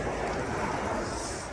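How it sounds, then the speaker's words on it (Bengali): Steady, dense wind rushes outdoors during a cold, rainy walk, buffeting the microphone as a continuous loud roar. "হাওয়া চলছে"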